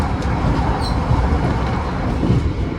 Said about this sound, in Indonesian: ini di kursi paling depan emang agak berisik karena kita di atas bogi dan dekat pintu